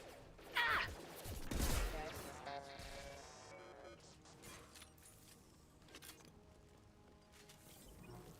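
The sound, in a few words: gunfire in the video game Mass Effect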